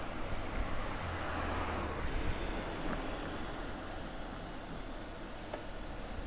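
Cars pass along a busy narrow road in Kurashiki's Bikan historical quarter in Okayama, Japan: a steady broadband traffic roar with engines and tyres rising and fading nearby, heard from a bicycle with no talk.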